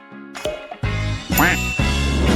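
Cartoonish duck quack sound effect, several bright nasal quacks in quick succession, close and loud, with no talking.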